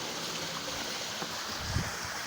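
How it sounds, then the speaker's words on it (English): A small waterfall spills into a Scottish loch, heard as a faint, steady rushing wash of flowing water with a few soft bumps and splashes close by. "Looks like a little waterfall we're coming up to."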